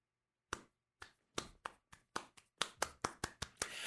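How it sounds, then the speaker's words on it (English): Isolated hand claps begin slowly, one at a time with gaps, then quicken and multiply into a building round of applause, crisp and close in a quiet space. "the most rapturous applause ever heard"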